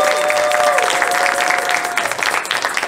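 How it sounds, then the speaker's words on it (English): At a school talent show, an audience breaks into applause: loud, dense clapping from many people that carries on steadily with a faint background tone. "I think I need another round of applause now that I said that it's graphs"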